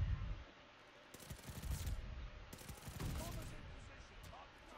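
Cooper Carbine fire in Call of Duty: Vanguard, a few short bursts of rapid shots at moderate loudness amid quieter game ambience.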